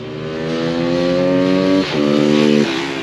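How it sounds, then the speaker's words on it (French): A Honda CBR sport motorcycle races past on a track, its loud, close engine howl holding a steady high pitch, then dipping sharply as it shifts and rising again before fading slightly. "Lilian qui donne tout, Lilian avec le CBR."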